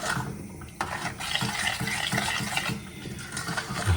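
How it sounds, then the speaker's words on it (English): Baked bean curry with sultanas is stirred in a pan, a utensil scraping and knocking against the metal in a steady repeating rhythm, close and moderately loud, with no talking. "as you start to stir it round"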